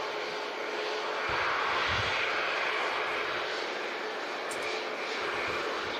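An Airbus A320neo jet airliner taxiing at Manchester Airport gives a steady broad engine roar, fairly distant and constant, with a person speaking quietly over it.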